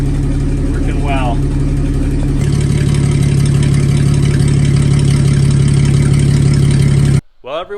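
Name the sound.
1954 Fargo half-ton truck engine running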